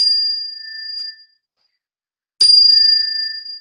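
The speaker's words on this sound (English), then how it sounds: "these are chimes, and what they do is raise the vibrations in the room" Meditation chimes ring with pure, sustained metallic tones that slowly fade, go silent, then come back with a second bright strike that rings on, clear and close in a quiet room.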